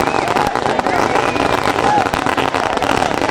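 Firecrackers bursting outside the arena at the Sengurichi jallikattu bull-taming event near Trichy: dense, sharp crackling pops in rapid succession over a noisy crowd, with voices mixed in.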